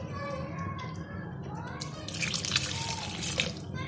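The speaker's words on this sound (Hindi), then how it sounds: "1 गिलास पानी का ऐड करके" A glass of water is poured into a pan of aloo gobhi with carrots, a steady splashing flow over a low background hum, growing brighter as the pour continues.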